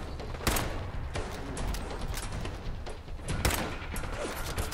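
Gunfire in the video game Fallout 4 during a fight with super mutants, with several sharp, loud shots at irregular intervals over a low ambient game background, no talking.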